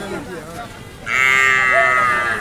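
A cow at a rural cattle market lets out a long, loud, drawn-out moo that starts abruptly partway through and holds steady, following a stretch of murmuring voices and market bustle.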